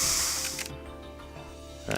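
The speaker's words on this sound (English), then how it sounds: "Can you spray it on the remains of the mirror?" A forensic spray hisses onto the shattered remains of a mirror in the Trauma Team video game: one bright, steady burst lasting under a second, then a quieter synthetic background tone.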